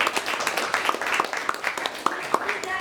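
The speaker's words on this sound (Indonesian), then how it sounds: "beri tepuk tangan yang meriah" Students in a classroom clapping in a scattered, uneven round of applause, with talk mixed in over the claps.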